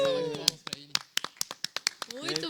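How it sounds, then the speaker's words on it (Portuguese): A few people in a small podcast studio clap to welcome a pastor, giving sharp, distinct hand claps at an uneven rhythm with voices speaking around them. "Salve de palmas pra ele"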